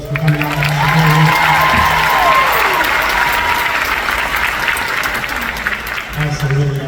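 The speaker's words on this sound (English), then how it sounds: "give your parents, friends, and family a round of applause for coming out and supporting" Audience at a Chaffee College graduation ceremony applauding, a dense, sustained wash of clapping with some cheering that carries on throughout.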